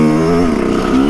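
Small-displacement enduro motorcycle engine revving hard on a hill climb, a loud, close, steady buzzing drone whose pitch dips slightly midway and then climbs again, with no talk over it.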